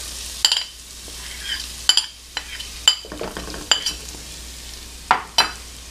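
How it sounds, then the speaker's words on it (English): Onions and garlic frying in a pan, a soft sizzle under repeated sharp scrapes and taps of a spoon stirring against the pan. "And now we can start cooking our onions and our garlic."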